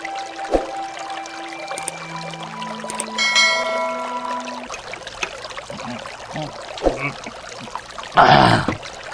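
Water being poured, with a short trickling splash near the end, preceded by household noises, a brief hum and a few scattered voices.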